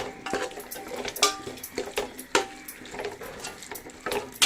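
Chicken is being mixed with chilli powder and spices in a pan, with repeated utensil scrapes and clinks over a low sizzle in an irregular rhythm.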